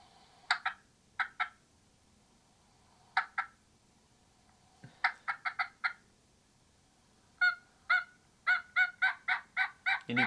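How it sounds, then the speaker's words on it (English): Wild turkey gobbling answers a hunter's loud, aggressive yelping and cutting calls in the woods, with sharp bursts of repeated yelps in quick series, building to a rapid run of loud calls near the end. "I'm yelping loud at him. I'm just trying to keep that turkey gobbling."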